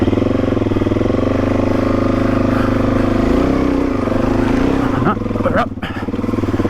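A DRZ400E dirt bike's engine revs steadily and loudly while it tries to pull away on mud-caked tyres, the note rising and falling near the end, with a short spoken remark over it.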